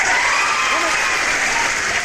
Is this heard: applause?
yes